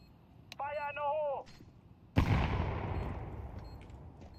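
A single loud gunshot in the Counter-Strike video game, with a sharp crack and a long decaying echo, follows a brief tonal voice-like sound.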